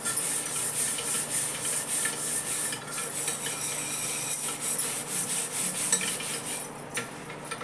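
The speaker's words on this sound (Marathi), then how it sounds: "ते आपण या पितांबरीने घासायचे ना." Scrubbing a blackened, yellowed pressure cooker with Pitambari cleaning powder gives a steady, close rasping rub that keeps going with no talk.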